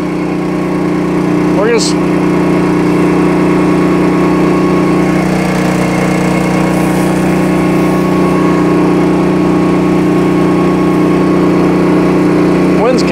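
A 23HP engine on a power wash trailer with a 7GPM, 4,000 PSI pump runs loud and steady at close range, droning without a break. Someone speaks briefly over it.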